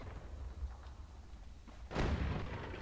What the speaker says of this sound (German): Noch ein Schuss.